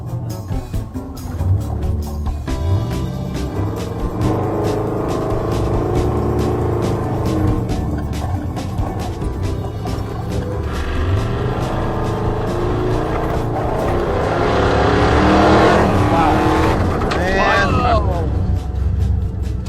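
A muscle truck launches hard at a drag race with tire spin, its engine roaring loudly and steadily while it builds speed, and a commentator talks over the noise throughout.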